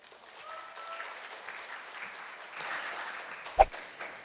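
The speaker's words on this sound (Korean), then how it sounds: "큰 박수로 환영해 주십시오" Audience applause welcoming a contestant at a Korean speech contest in Toronto sounds faint and distant as a soft, continuous patter, with one sharp knock near the end.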